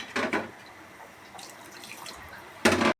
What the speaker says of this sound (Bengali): মাংসটা কষানো হয়ে গেছে, ঝোল দিয়ে দিলাম।